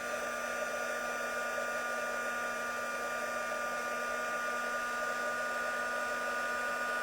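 A heat tool blows steadily and alone for several seconds, warming gold embossing powder on a stamped craft card until it melts shiny; the airflow hum stays even throughout.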